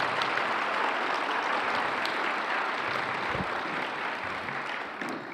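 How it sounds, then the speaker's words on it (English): Loud, dense applause from an audience welcoming sponsors at a school foundation's fall tipoff event, a steady wash of many hands clapping together that holds for several seconds with no speech over it. "Let's welcome them and give them a big round of applause."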